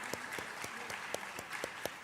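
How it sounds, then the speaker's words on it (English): Audience applause at an employee recognition program, with a few distinct loud claps standing out in a regular rhythm over a softer, fairly quiet background of clapping. "So give a warm applause for her."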